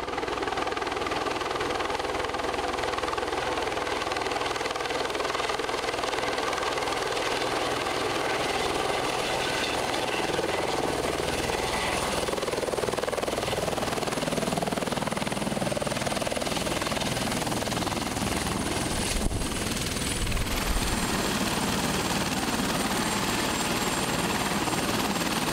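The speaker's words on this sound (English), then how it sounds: "I think I see a helicopter coming" A helicopter drones continuously over an outdoor Irish festival in Niagara, a heavy throbbing rotor roar with engine whine that swells and stays loud throughout, no voices clearly heard.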